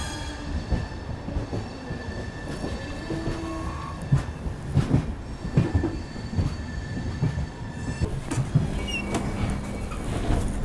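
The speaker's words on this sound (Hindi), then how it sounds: "निकल गई अपनी पुरुषोत्तम एक्सप्रेस भुवनेश्वर रेलवे स्टेशन से" Purushottam Express pulling out of Bhubaneswar railway station, a loud steady rumble of rolling carriages with rhythmic wheel clacks and thin metallic wheel squeals over about ten seconds.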